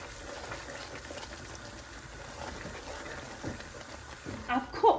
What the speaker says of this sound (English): of the semolina suji being cooked